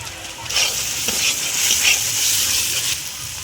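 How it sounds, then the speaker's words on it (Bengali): Onions sizzle and crackle in a hot pan, with bursts of stirring and scraping over a steady frying hiss, close up. "পেঁয়াজ দিয়ে দিলাম পেঁয়াজটা ভাজা ভাজা হয়ে এসছে"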